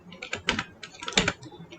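Someone types a short run of keystrokes on a computer keyboard, a close, quick patter of irregular clicks lasting under two seconds, with no talking over it.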